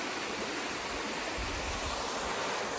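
Water by the shore washes in a continuous, even rush close by, a steady broadband hiss with no voices.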